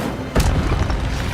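The Incendio fire spell is cast in the Hogwarts Legacy video game, a single sharp, loud burst that erupts suddenly and then rumbles on, crackling, for about a second.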